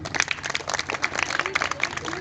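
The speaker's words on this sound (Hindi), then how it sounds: "ताली बजा दो।" Audience at a Maha Shiv Jayanti program in Shuklapur, Hardoi, clapping in a quick, uneven burst of many hands, close and fairly loud throughout.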